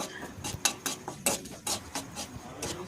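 Dry fruits and whole spices frying in ghee in a pan, heard mostly as a quick run of close metallic scrapes and clinks from a stirring spoon over a faint sizzle, without speech.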